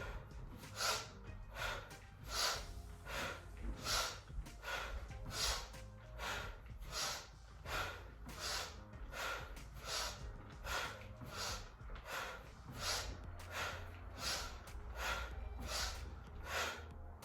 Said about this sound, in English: So let's inhale, exhale, inhale, exhale, inhale, exhale.